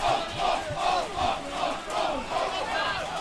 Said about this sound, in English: Crowd want him sent off.